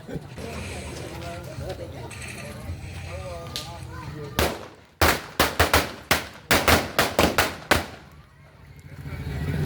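Voices chatter, then a rapid string of about ten sharp firecracker bangs cracks out in quick succession, close and loud, during Diwali, before fading to a hiss.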